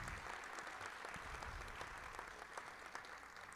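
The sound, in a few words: audience applause at hall of fame ceremony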